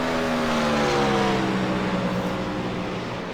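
Race cars in a GT endurance sim race at Daytona, including a 4 Motorsports McLaren, roar loudly as one closes to overtake, engine tones sliding down in pitch as they pass, steady and dense throughout with no voices.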